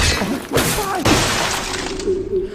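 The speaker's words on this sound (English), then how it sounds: "Frozen enemies can be easily killed, but they shatter, leaving no loot." A frozen enemy shattering in BioShock, heard as a loud, bright burst of breaking, crashing ice like smashing glass, with a second crack following shortly after, and a faint voice in the background.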